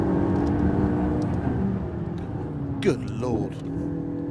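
McLaren 675LT sports car engine accelerating hard, a loud sustained drone with a quick rising sweep near the end, heard under a man's speech.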